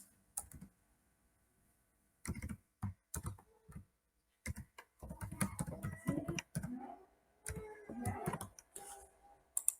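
Someone types an email address and password on a computer keyboard, quick clusters of close key clicks separated by short pauses.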